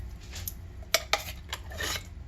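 A spoon clinks and scrapes against a casserole dish while scooping broccoli casserole, giving a few sharp metallic taps and soft scraping strokes up close.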